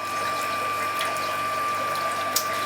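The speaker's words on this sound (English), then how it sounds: "the remaining water goes through this pipe and ends up back in the sump" Water flows through an aquaponics pipe from the grow bed back into the sump, producing a steady, even rush of water over a constant pump-like hum, with no speech.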